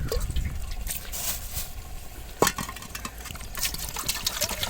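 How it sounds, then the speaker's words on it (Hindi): Water pours steadily into a cooking pot while biryani is made in a village for a crowd of labourers, a faint continuous splashing trickle with one brief clunk partway through. "अभी जो है ना पानी डालेंगे।"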